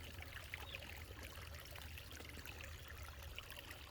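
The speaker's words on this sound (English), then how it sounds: "that water sounds good" Flowing stream water outdoors makes a steady, soft rushing and trickling wash that stays even and fairly faint throughout, with no voices.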